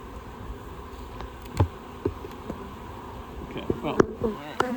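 Honey bees buzz steadily during a hive inspection, a dense close hum with individual bees flying past, and brief handling knocks and faint sounds of someone working the hive.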